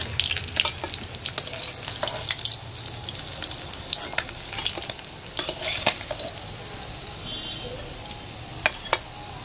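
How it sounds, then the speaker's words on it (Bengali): More fish pieces frying in oil, a lighter sizzle broken by scattered sharp clinks and scraping of a utensil against the pan, with no one speaking. "বাকি মাছগুলো ফ্রাই দিয়ে দিচ্ছি।"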